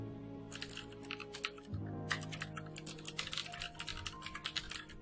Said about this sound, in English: all I have to do is go in here, type in Jane Doe